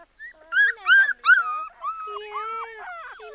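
A three-week-old labrador puppy whimpers and yips in high, wavering cries, a few sharp squeals then softer whines, close by.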